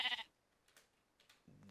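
Sheep in the video game Minecraft bleat in two short, clear calls, one at the start and one at the end, with near silence between them.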